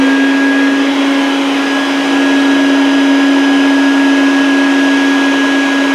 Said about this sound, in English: I'll turn it on here and you can see the window get sucked in.